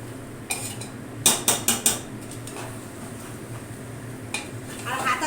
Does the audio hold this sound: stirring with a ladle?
yes